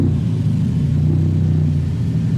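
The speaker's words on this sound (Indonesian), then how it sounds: "kedengeran kan suaranya knalpot yang tadi keren banget nih" Honda Civic Estilo exhaust rumbling on a test drive, a loud, steady low drone close by with a slight rise in pitch, no talk over it.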